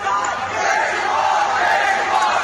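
Students outdoors chant slogans in celebration of the school-closure decision, a loud, dense crowd roar of many voices that fills the whole stretch without pause.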